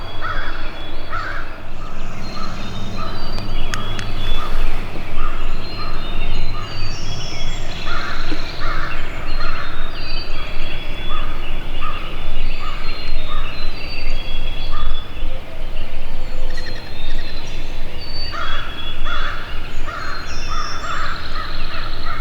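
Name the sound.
wild turkeys gobbling on a hillside at sunrise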